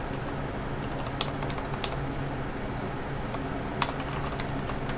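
Keys on a computer keyboard are pressed to type a Linux install command, a run of light, irregular clicks with a couple of sharper taps, close and moderately quiet over a steady background hum.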